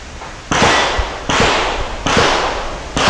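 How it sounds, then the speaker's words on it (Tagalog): Handgun shots at a firing range, four loud sharp reports spaced roughly every 0.8 seconds, each cracking sharply and then trailing into a long echoing decay inside the range. "So magka-firing na ako."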